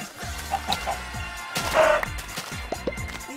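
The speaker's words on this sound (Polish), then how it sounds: "I zabijam kury." Chickens in the video game Minecraft give a few short, soft clucks over a steady run of game footsteps, with a brief louder crunch midway.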